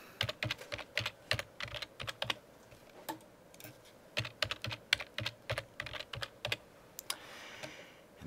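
Quick keystrokes clatter on a computer keyboard as a password is typed, irregular bursts of close, crisp clicks with brief pauses between groups and no talk.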